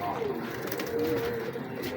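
A large breeder pigeon held in the hand gives a low, drawn-out coo close by, while people talk over it.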